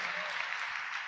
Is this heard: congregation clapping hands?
yes